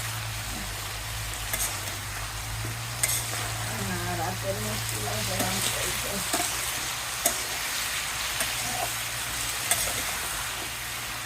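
Spices sauté in a pan in a village kitchen, giving a steady close sizzle with scattered stirring clicks over a low hum, while a faint voice murmurs briefly in the middle.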